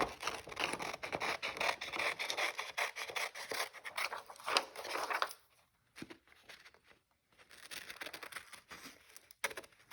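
Scissors cut out a paper card with quiet, rapid snipping and paper rustle, pausing for a moment midway before resuming.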